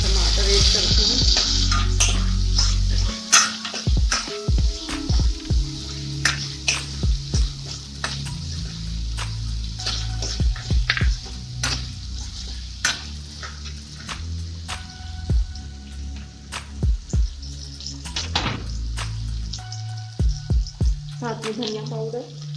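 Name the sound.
tomatoes added to browned onions, frying in a pan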